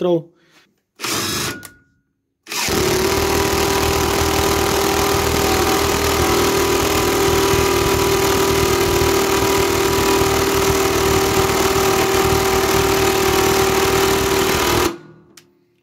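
A Parkside PDSSAP 20 Li A1 cordless impact wrench drives an 8 mm screw, struggling in its first gear: two short bursts, then a loud, steady, close-up hammering whir that runs for about twelve seconds before cutting off.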